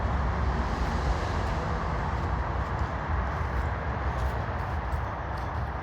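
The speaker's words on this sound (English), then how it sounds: "You'll hear a noise and that's the traffic." Steady, dense roar of road traffic from a nearby roadway, heard from a woodland path near Runcorn, constant and fairly loud throughout with no clear individual vehicles and no talking.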